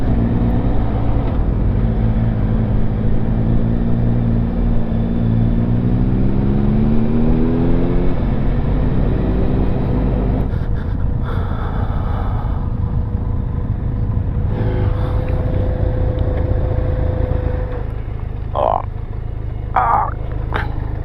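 Benelli TRK502 motorcycle cruising on a road, a loud continuous engine drone with wind roar, the pitch rising through the gears before levelling off, then easing toward a lower idle-like hum near the end.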